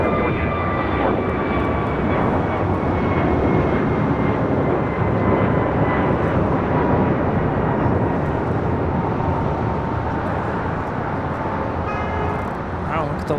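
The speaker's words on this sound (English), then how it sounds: "This is American 1659 taking off to Dallas Fort Worth on an A321neo." American Airlines Airbus A321neo taking off from LAX, a loud, steady roar of engines with a broad rushing texture that holds for the whole stretch, with faint background voices mixed in.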